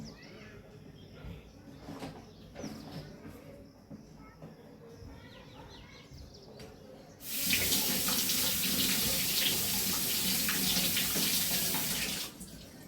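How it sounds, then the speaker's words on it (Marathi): Tap water runs hard into a kitchen sink for about five seconds while curry leaves are rinsed under the stream. Quieter kitchen clatter and handling noises come before it. "मी इथे कढीपत्ता देखील धुवून घेतलेला आहे."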